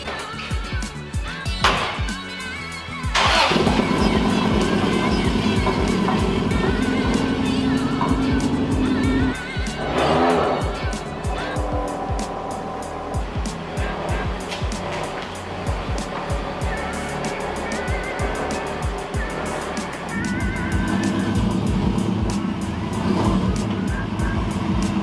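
A car drives along with a steady engine rumble and road noise from inside the cabin, interrupted by a few sharp knocks and thumps.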